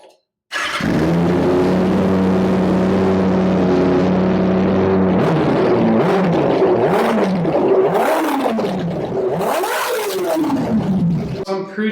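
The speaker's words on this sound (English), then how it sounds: "let's give it some revs and see how it sounds" A warmed-up Kawasaki ZX636 sport motorcycle with a freshly rebuilt fuel pump idles loud and close, then revs several times, each blip rising sharply and falling back, the later ones climbing higher.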